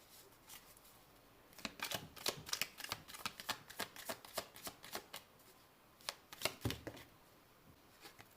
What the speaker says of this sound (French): même si j'ai mélangé les cartes